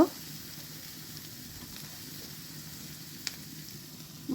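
Gourd with turmeric and chili powder cooks in a pan with a faint, steady, low sizzle and one brief tap from the stirring utensil, heard with no voices.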